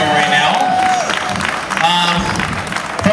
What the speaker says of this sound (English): over the overwhelming applause you're giving Pi Romeo right now.